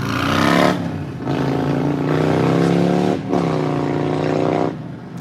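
Truck engine heard from inside the cab, a loud steady rumble with swelling revs that dip briefly twice and then resume, no talk.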